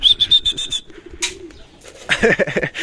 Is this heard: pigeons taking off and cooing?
yes